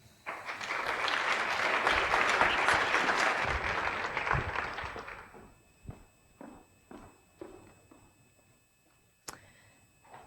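An audience at a legal education lecture bursts into warm applause for five seconds that fades out, followed by a speaker's footsteps clicking toward the podium.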